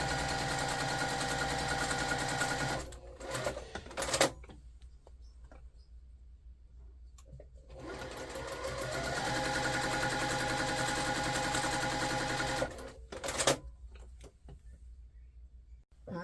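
A sewing machine stitches pieced quilt block units a quarter inch from a drawn line, running in two long steady bursts separated by a pause and brief handling clicks, close and fairly loud.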